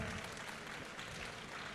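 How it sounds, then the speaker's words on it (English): An audience applauds a League of Legends team at a gaming expo, a steady wash of clapping from a crowd throughout, moderately faint. "Let's give them a round of applause."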